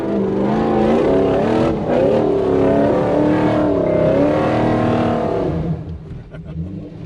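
A 1UZ V8-powered Toyota Surf / 4Runner revs hard off-road, a loud sustained engine roar rising and falling in pitch for several seconds before easing off to a lower rumble.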